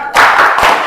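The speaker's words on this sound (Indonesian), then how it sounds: "yang pertama kita mungkin tepuk semangat dulu ya" A Grade XII class at an aviation vocational school clapping together in a short, loud burst of many hands striking at once, with a second quick clap close behind.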